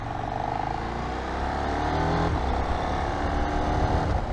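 A KTM 1390 Super Duke R EVO accelerates hard with its engine note climbing and a brief quickshift break in the middle, loud and close with rushing wind noise throughout.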